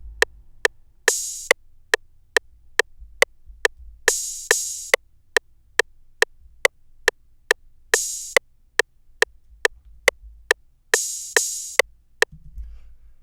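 Programmed trap-style hi-hat pattern, an edit of a classic hat, in a pluggnb beat: crisp, steady closed ticks in a fast even grid, with short open-hat hisses recurring at regular intervals, played alone.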